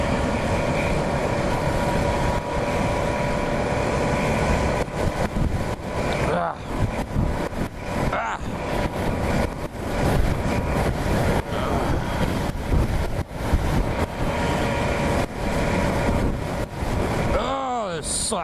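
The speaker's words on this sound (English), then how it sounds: "That wind is kicking." Strong wind roars continuously across the microphone while cycling over a bridge in high wind, a loud, unbroken buffeting rush with brief gusty dips and a voice speaking over it.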